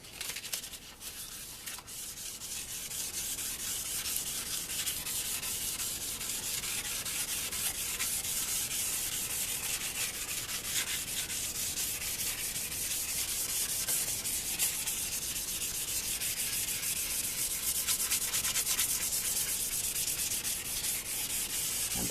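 Steady abrasive rubbing of sandpaper on a wet guitar body, continuous back-and-forth scratching with a bright hiss, close and fairly even throughout.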